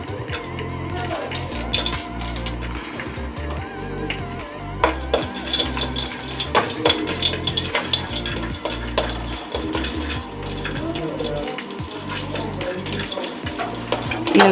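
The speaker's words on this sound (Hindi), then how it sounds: "ये तेल हमने पहले से रख दिया था, इसमें ये हल्का सा फ्राई करना है" Food lightly frying in oil heated in advance in a home kitchen pan, a steady bubbling sizzle with scattered crackles and pops over about fourteen seconds, close and fairly loud, with no talk.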